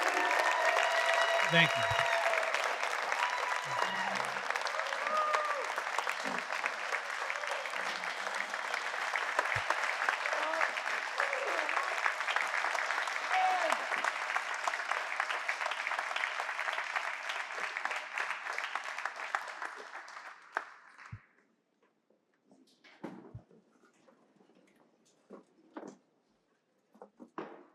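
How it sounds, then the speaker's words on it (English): Sustained applause from a seated audience at a high school athletic hall of fame ceremony, a dense steady clapping for about twenty seconds before it tapers off, with a brief spoken thanks and scattered room noise after. "So everybody put your hands together, give him a round of applause."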